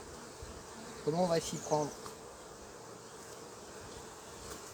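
Honey bees drone around an opened hive during the honey flow, with a faint steady hum and a short, louder burst of close wingbeats near the start while someone speaks briefly.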